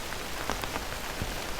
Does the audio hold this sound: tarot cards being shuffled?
no